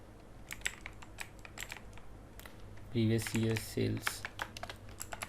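Keys clatter on a computer keyboard as a DAX formula is typed, a quick run of light taps spread through the clip with a few denser, louder bursts near the end, close and clear.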